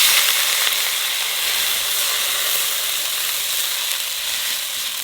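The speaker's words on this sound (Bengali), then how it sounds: "এইবার জল দিয়ে দেবো" Water poured into a hot pan of fish curry with eggplant, cumin and green chilli sizzles and hisses loudly and steadily, a dense bright steam hiss that holds for several seconds with no talk.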